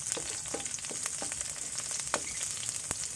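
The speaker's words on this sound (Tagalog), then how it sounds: "Painit-initin ang mantika. Ilagay ang sibuyas." Onion frying in hot cooking oil, a dense steady sizzle with scattered sharp pops and crackles, close and fairly quiet throughout.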